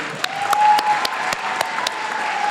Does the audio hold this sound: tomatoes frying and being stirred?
no